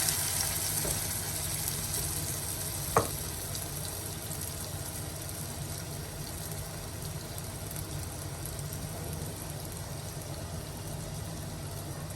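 Shaped dough balls fry in boiling oil with a steady, soft sizzle that stays even throughout, broken by one brief click near the start.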